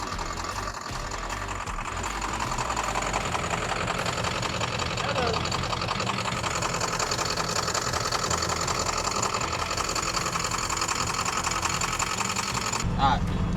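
A diesel engine runs steadily while air is bled from its lines and a cleaning system circulates through the coolant, a continuous near, rattling idle that holds throughout.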